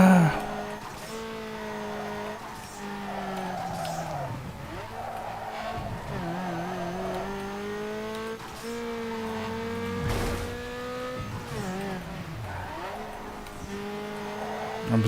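A car drifting in Need for Speed, its engine revving high and shifting pitch through long slides with squealing tires, loud and continuous, and a voice speaking now and then.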